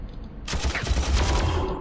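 Mortar fire in a Warhammer 40,000 video game erupts suddenly into a loud, dense barrage of rapid blasts and rumbling impacts that continues steadily for over a second.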